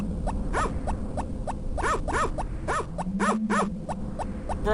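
A dog in Harvest Moon: Friends of Mineral Town gives a run of short, sharp barks in quick, uneven bursts, about eight in all, clear over a steady background hum.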